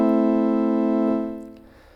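One bright, buzzy brass-style synth note from a Yamaha PSR-36 keyboard's brass preset with the digital synthesizer on sustains evenly, then tapers away toward the end; no voices.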